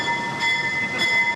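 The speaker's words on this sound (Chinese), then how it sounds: "火车冲出水烟，道入站" A replica of the world's first steam-powered public railway locomotive pulls into a station. A steady, broadband mechanical rumble runs close and loud for a little over a second, then cuts off abruptly.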